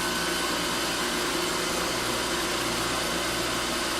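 A milling machine cuts CrMo 4140 steel at a higher spindle speed, giving a steady, fairly faint broadband whir and hiss that holds evenly throughout with no talk.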